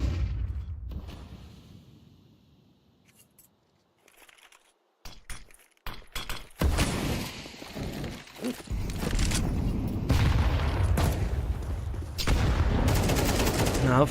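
Rapid bursts of gunfire from a competitive shooter video game match ring out after a quiet start, dense and loud, with several stretches of sustained firing and a commentator speaking over the action.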